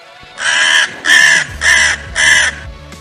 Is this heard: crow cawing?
yes